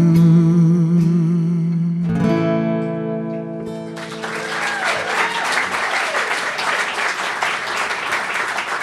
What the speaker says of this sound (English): Thanks for doing that. That clapping stuff.